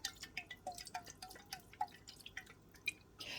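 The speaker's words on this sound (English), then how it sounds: "So I'm going to add a good splash of that." Balsamic vinegar is splashed into French onion soup, heard as a quick run of light, close drips and small plinks, irregular and fairly faint, ending in a short soft splash.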